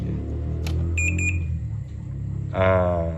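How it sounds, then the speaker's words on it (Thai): A Samsung air conditioner control board under bench test through a lamp load gives a short burst of several thin electronic beeps over a low background hum, followed by a louder buzzing drone near the end. "ตัวนี้มีเสียงสัญญาณตอบกลับมานะครับบอร์ด"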